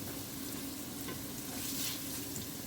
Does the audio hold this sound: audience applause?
no